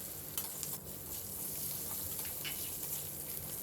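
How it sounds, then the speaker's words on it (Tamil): Shallots sautéing on a medium flame for ridge gourd chutney give a constant close sizzle and crackle, broken by a few light stirring scrapes. "இப்போ இதை நல்லா ஒரு 1 மினிட் மீடியம் ஃப்ளேமில் நல்லா வதக்கிக்கோங்க."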